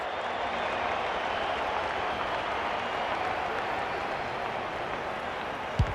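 A stadium crowd in the AFL 26 football video game roars and applauds in a dense, steady wash for several seconds, loud and continuous, ending with a brief sharp click.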